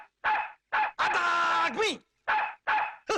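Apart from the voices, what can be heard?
dog barking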